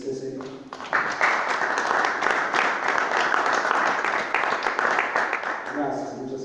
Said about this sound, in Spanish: les pido un aplauso porque merece este señor